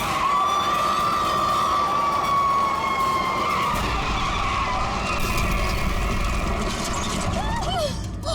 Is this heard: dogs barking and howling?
no